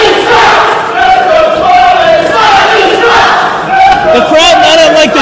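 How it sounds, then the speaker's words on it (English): An indoor wrestling tournament crowd cheers and chants loudly and continuously, a dense roar of many voices swelling and dipping throughout. "The crowd not unlike the dual personalities of Smiley, channeling both sides of what he thinks."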